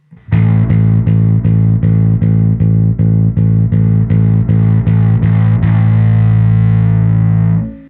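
Electric guitar through the KosmOS Anagram overdrive and distortion block, loud and aggressively distorted, strumming a steady run of repeated chords before one final chord rings out and fades.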